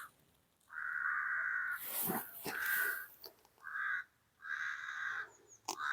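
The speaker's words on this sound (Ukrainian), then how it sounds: "Ворона нам підспівує." Crow cawing outdoors near someone painting an oil sketch of a tree from life, a series of loud harsh caws in several bursts with short pauses between them.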